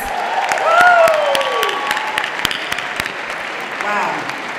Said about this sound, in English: President Obama, let's give him another applause.